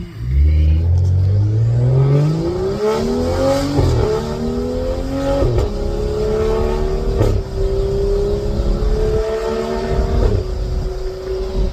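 A BMW 535i 3.0 turbocharged engine pulls hard at half throttle, its rising roar climbing steadily in pitch through several gear-like surges, loud and close with no talking.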